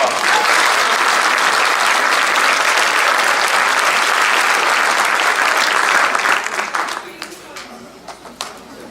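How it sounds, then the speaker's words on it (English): Loud, dense applause from a large crowd at a school faculty awards ceremony, sustained for several seconds before thinning out into scattered claps at the end. "Let's give them a round of applause."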